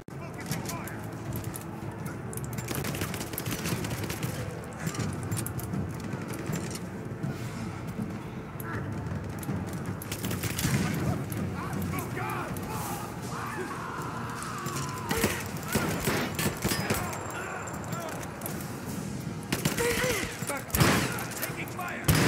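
Gunfire in Rise of the Tomb Raider, bursts of rapid shots and sharp cracks recurring amid a chaotic battle soundscape, with shouted voices talking over much of it.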